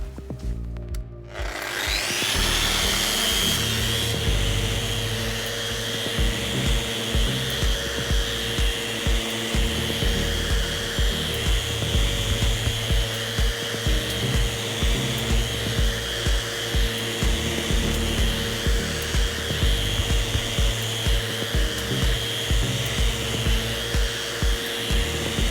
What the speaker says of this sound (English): I will use random orbital on this side to sand this area for 10 strokes with 120 grit abrasive